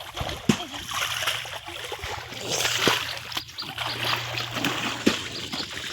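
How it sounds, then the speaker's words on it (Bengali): Freshly washed clothes being rinsed by hand in a tub of water, with steady sloshing and splashing and a few sharper slaps, close up, over a low continuous hum. "এবার আমি ধুয়ে নেবো এগুলো সব"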